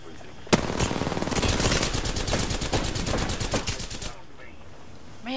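Rapid automatic gunfire in Apex Legends, a sharp opening shot followed by a dense, loud burst of shots lasting several seconds before cutting off, with a faint voice underneath.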